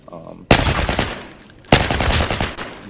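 Two loud, close bursts of rifle fire in Arena Breakout: Infinite, each a rapid cluster of shots. The first begins suddenly and fades out, and the second starts a little over a second later and keeps going until the end.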